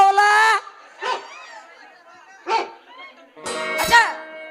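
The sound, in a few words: dogs barking on the road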